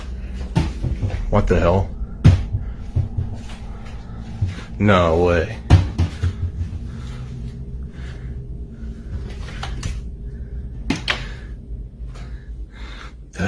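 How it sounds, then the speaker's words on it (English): A kitchen cabinet door slowly opens and closes by itself, giving sparse soft knocks and bumps spread through the scene while a startled voice exclaims over them. "one of the doors can be seen slowly opening on its own, just a few inches, before gently closing again"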